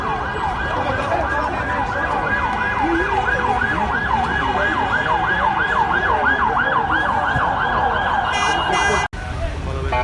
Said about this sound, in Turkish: Bizzat gözümle gördüğüm 10 taneye yakın ambulans Tugay'ın içine girdi.